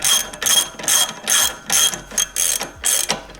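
Ratcheting clicks come in quick repeated bursts while the foot oil drain plug is tightened on a Mercury 150 Pro XS outboard, with about seven close, loud spurts of metallic pawl chatter and short pauses between them.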